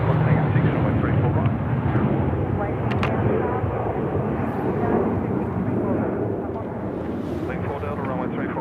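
An Airbus A321 rolls for takeoff on runway 34 left at Sydney Airport, a steady loud engine roar with wind buffeting the microphone throughout.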